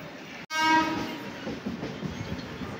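A train horn sounds loudly after a brief silence, then fades into the rumble and clatter of railway carriages on a busy platform 7 at a Mumbai station on the Konkan Railway route.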